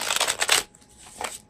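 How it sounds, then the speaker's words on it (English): Tarot cards from an Animal Wise deck being shuffled, a dense close papery riffle for about half a second, then a softer second flick of the cards. "So I'm shuffling a supportive card here."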